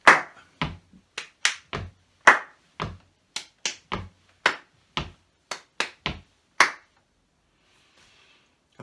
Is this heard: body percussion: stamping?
yes